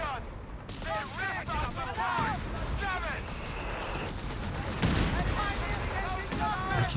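An anti-tank gun fires repeatedly in the strategy game Company of Heroes 3, sharp heavy reports mixed with scattered gunfire and battlefield chatter, with a stronger blast near the end amid a busy combat soundscape.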